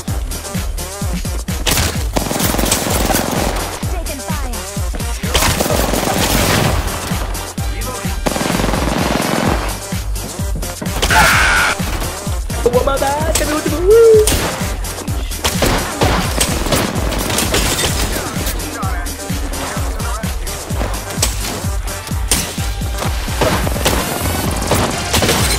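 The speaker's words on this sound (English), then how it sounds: "Shotgun!" Shotgun blasts and other weapon fire in a fast Apex Legends arena fight, loud and close, with bursts of gunfire, impacts and booms coming in clusters for the full stretch.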